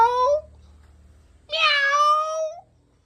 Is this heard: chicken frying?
no